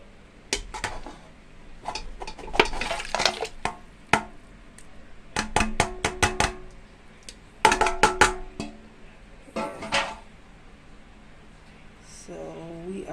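Marinated curry goat going into a pressure cooker pot, with a string of sharp metallic clanks and knocks of meat and utensil against the pot, coming in bursts close up, and a short scrape near the end.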